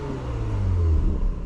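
A 2021 Porsche Macan GTS engine revs with its sports exhaust switched off, a deep, smooth rise in pitch that holds a steady muffled rumble, heard alone without talk.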